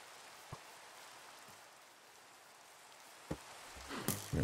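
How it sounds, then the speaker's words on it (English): Soft, steady rain hisses in a Minecraft game world as a faint even wash, broken by a few quiet taps and a louder clatter near the end. "really hate the rain."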